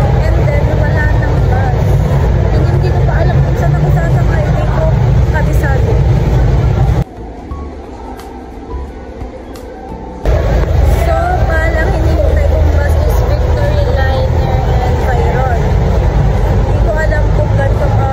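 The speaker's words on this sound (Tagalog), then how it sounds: "Nag-minibus na nga ako dahil wala akong maintay na bus." Interior of a moving minibus from Carmen Terminal, with a steady engine drone and road rumble, briefly cut to near quiet before resuming, with people talking over it.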